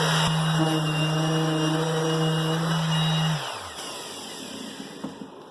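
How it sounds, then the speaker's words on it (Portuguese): An electric sander runs with a steady motor whine and gritty sanding noise, then spins down around the middle and fades to quiet background, close and fairly loud. "Vou começar a lixar."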